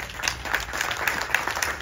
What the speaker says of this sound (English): clap for this man